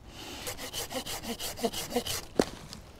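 Handheld folding saw cutting through wood outdoors in a forest, a steady run of back-and-forth rasping strokes close to the microphone, about eight strokes in three seconds with a sharp crack near the end.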